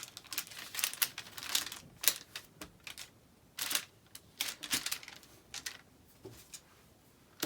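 A paper sewing pattern is folded along the lower leg while a dart is closed, giving a series of crisp, irregular crinkles and rustles close up, with short bursts separated by pauses.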